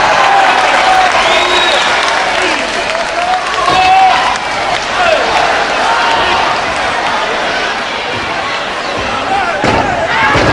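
A 1977 UK wrestling crowd cheers and applauds loudly and continuously around the ring, a dense roar of claps and shouts with a commentator talking over it.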